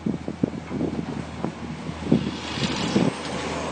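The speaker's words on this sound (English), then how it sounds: "It's really windy and noisy." Steady wind buffeting the microphone, a broad rumbling roar with irregular low thumps throughout, fairly loud and with no voices.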